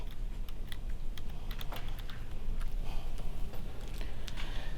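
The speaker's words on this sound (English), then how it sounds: "in the search box here, I'm going to type the word cache." A word is typed on a computer keyboard, producing a quick run of close, light key clicks in an irregular rhythm over a steady background hum.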